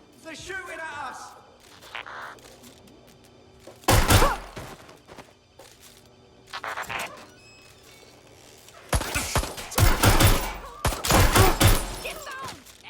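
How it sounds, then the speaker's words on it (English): Gunfire in the video game Watch Dogs Legion: loud bursts of shots at about four seconds, then sustained heavy volleys near the end, between quieter stretches with voices. "They're shooting at us."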